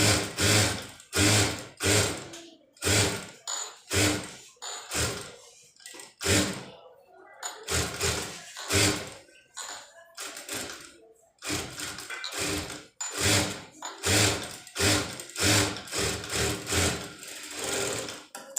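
A sewing machine top-stitching the back neck of a blouse runs in rapid mechanical bursts separated by short pauses, loud and close, with no speech.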